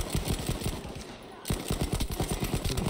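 Rapid bursts of Sten submachine gun fire in Battlefield 5, quick rhythmic shots in two strings separated by a short pause, fairly faint and mixed with in-game noise.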